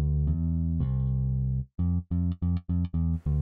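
An IK Multimedia MODO Bass virtual instrument plays a short line of deep, sustained notes followed by a quick series of punchy, evenly spaced plucks.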